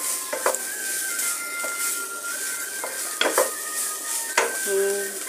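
Fourteen kinds of leafy greens sizzle in a pan while a utensil stirs them, scraping the metal in several separate strokes. The frying is close and steady, with short clinks from the pan and no one talking.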